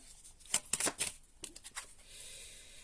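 Tarot cards are shuffled and drawn by hand, giving quick riffling bursts and soft slaps at close range, then trailing off into a faint rustle.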